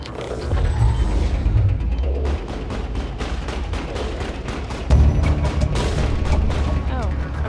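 Video game gunfire in Mass Effect: rapid sharp shots and impacts crackle over heavy low booms, dense and loud throughout, with a voice briefly speaking underneath.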